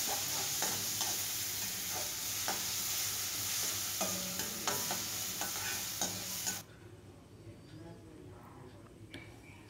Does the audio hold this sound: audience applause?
no